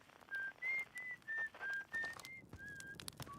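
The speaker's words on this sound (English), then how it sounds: "we heard you whistling too when we used the signal scope" Esker whistles a slow melodic tune in the video game Outer Wilds, several sustained clear notes in a row, faint and airy over a soft ambient background.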